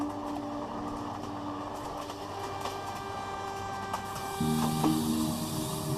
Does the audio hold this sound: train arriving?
yes